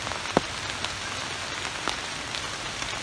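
Rain falls in a forest at hunting season, a soft, steady patter of drops on surfaces with a few sharper individual drips, quiet and even throughout.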